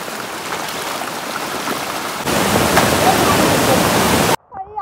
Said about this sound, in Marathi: हा पाऊस कंटिन्युअस पडतोय, थांबत नाहीये अजिबात